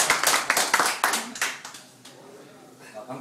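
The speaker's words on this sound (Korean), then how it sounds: "우리 선생님한테 한번 박수 한번 쳐드릴까요?" Classmates at a class reunion clap for their teacher in a quick burst of applause from a small group that fades after about a second and a half, leaving quiet room sound.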